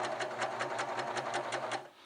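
A serger sewing machine stitches elastic in a fast, steady run of even mechanical pulses, close and fairly loud, slowing and stopping at the end, with no talk.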